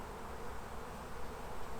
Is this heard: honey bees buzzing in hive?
yes